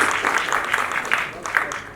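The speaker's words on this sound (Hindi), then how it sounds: "एक बार जोरदार ताली होनी चाहिए" An audience at an awards ceremony claps loudly and steadily for the organiser and her team, a dense patter of hands close by with no voices over it.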